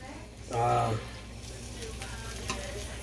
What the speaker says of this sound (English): I'm going to saute this in the butter and the garlic